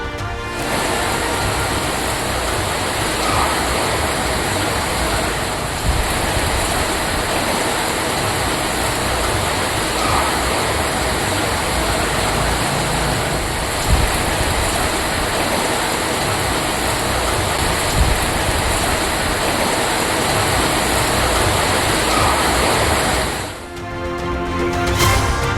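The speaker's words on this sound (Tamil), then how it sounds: "ராமேஸ்வரம் தீவு பகுதியில் பலத்த காற்றுடன் கூடிய கனமழை" Heavy rain driven by strong wind on Rameswaram island's coast, a loud, steady broadband roar of downpour and gusts that holds without a break for most of the stretch, then shifts abruptly near the end; no one speaks.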